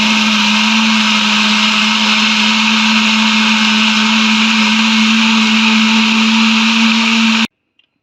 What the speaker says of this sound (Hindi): अब मैं 2 मिनट के लिए इनको ब्लेंड कर लेती हूँ।